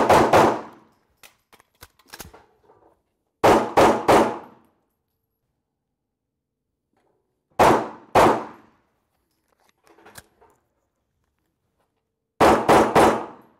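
Pistol shots on an outdoor range during live reload practice, fired in quick pairs and triplets with pauses between strings, loud and close, with faint metallic clicks of the magazine change in the gaps.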